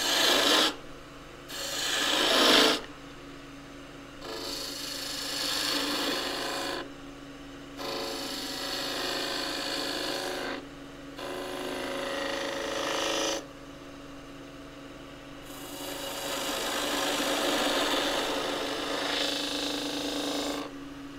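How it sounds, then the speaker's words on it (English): Spindle gouge roughing down a 90 mm square of dry elm on a wood lathe: a loud, coarse rasping cut that comes in repeated passes of a few seconds each, separated by short breaks. "to rough down this 90 millimeter square of elm, dry elm."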